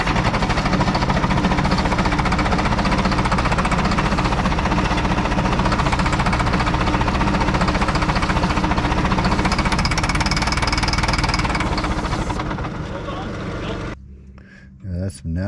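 A diesel loader that sat for 15 years turns over on its starter, a loud rapid rhythmic chugging and knocking that runs steadily, then winds down and stops near the end, with voices in the background.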